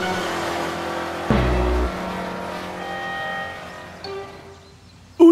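A cartoon car pulls away: a revving engine tone with a sharp low thump, then a fading whine as it speeds off, ending with a brief loud burst.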